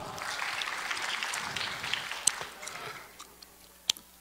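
An audience at a Badr religious conference gives warm applause that crackles steadily, then thins out and fades, leaving a few sharp isolated clicks and a faint voice in the room.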